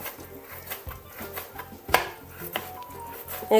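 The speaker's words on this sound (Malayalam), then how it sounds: "കൊത്തി അരിഞ്ഞിട്ടായാലും നമുക്ക് വാഴക്കുടപ്പൻ അരിഞ്ഞെടുക്കാം" A knife finely chops banana blossom on a cutting board, quick regular taps repeating in a steady rhythm, fairly close and moderately quiet, with a few sharper knocks mixed in.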